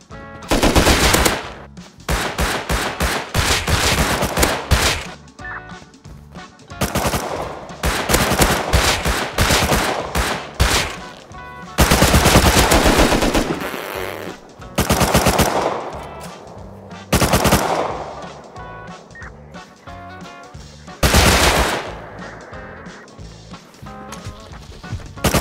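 Rapid automatic gunfire from the survival game Rust, loud and close, coming in long dense bursts separated by short pauses, with a few single shots and no talking over it.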